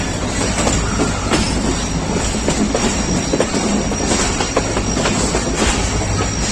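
A passenger train rumbles steadily into Rohri Junction, a loud continuous roar of wheels and carriage noise with faint clicks, heard from inside without speech.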